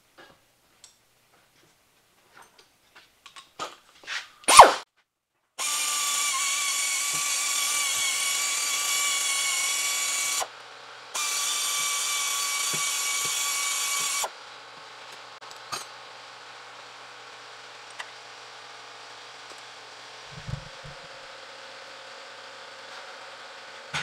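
A power tool cleans the threads on a tie rod of a 2007-2018 Chevy Silverado or GMC Sierra during a leveling kit install. A few clanks come first, then two loud, steady high-pitched whirring runs with a short break between them, followed by faint ticking.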